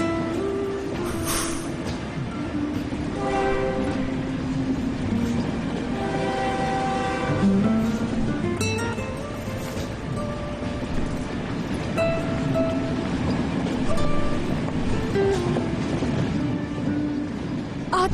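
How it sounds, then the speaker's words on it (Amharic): A train pulls away from a station, a continuous loud rumble of rolling wagons with clattering and a brief horn-like tone, steady and close for the whole stretch with no talk. "ባቡሩ እየሄደ ነው።"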